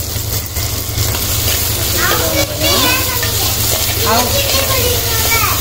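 Prawns frying in a pan with sautéed onion and tomato, a steady close sizzle running throughout beneath a low electrical hum, with a voice chirping briefly in the background.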